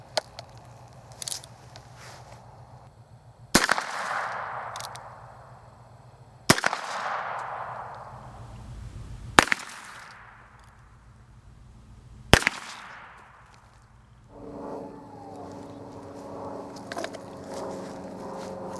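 Four sharp, loud gunshots from a Heritage Rough Rider revolver, evenly spaced about three seconds apart, each leaving a ringing decay outdoors, with a faint scrape before the first.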